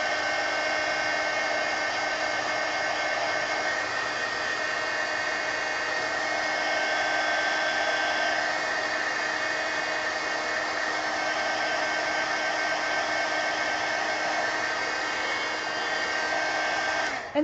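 A hair dryer blows steadily at close range while drying a magazine page, giving a loud, even rush of air with a faint whine that runs unbroken for about seventeen seconds before it is switched off.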